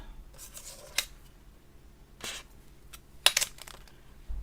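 Scissors snip through material for a Halloween cane in a few sharp, separate cuts close by, with quiet handling rustle between them and no talking.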